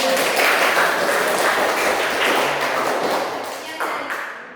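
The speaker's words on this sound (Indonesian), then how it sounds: "Tepuk tangan dulu." An audience gives a sustained round of applause at a family group presentation, with dense, steady clapping that fills the space and slowly fades toward the end.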